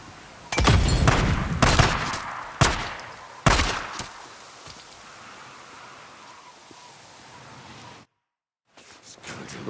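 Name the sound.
gunfire in video game Days Gone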